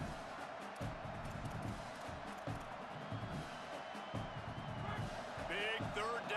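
Stadium crowd roaring and cheering throughout a college football video game matchup between Michigan and LSU, a steady dense din with commentary talk over it.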